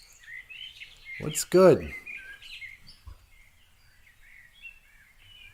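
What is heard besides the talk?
birds singing outdoors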